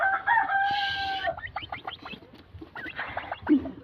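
A turkey hen calls nearby with a long harmonic squawk followed by a rapid series of clucking notes, loud and close against a quiet background.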